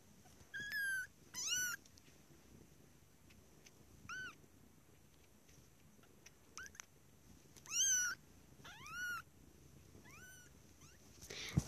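A cat meows repeatedly, about seven rising, drawn-out calls in separate bursts over a quiet background.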